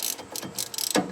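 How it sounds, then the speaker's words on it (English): Short ratchet clicking rapidly as it turns a bolt on the front brakes of a 2000 Ford F350 4x4, a close, steady run of small metallic ticks in quick bursts. "Just use the short ratchet for this one."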